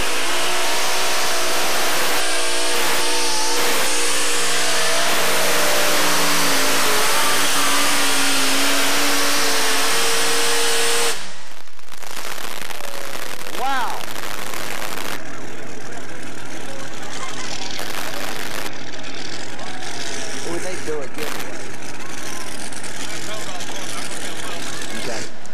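A triple-engine unlimited modified pulling tractor roars at a dirt-track pulling event, with a very loud sustained engine howl that cuts off abruptly midway, followed by rougher, fluctuating engine noise and an announcer talking over it.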